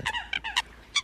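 A recorded Eurasian coot call used as a lure for bird trapping sounds as a quick series of short, nasal, honking notes, close and clear against a quiet background.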